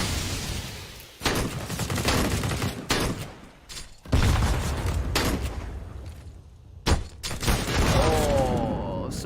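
Grenades go off in rapid succession in Counter-Strike on the Overpass map, with several loud broadband bursts and crackling gunfire over about nine seconds and a caster talking throughout.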